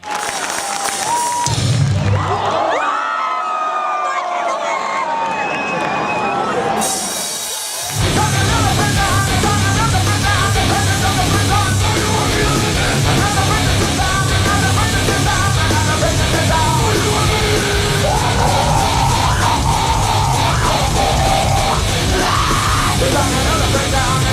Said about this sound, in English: I love how psyched the Chile crowd gets. This crowd is having so much fun.